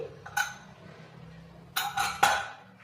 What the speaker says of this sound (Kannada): ಕುಕ್ಕರ್ ಲಿಡ್ನ ಓಪನ್ ಮಾಡ್ತಾ ಇದ್ದೀನಿ